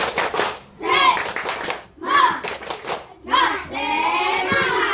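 A class of children standing and doing a rhythmic clapping routine in short bursts of group claps, mixed with the children's chanting voices.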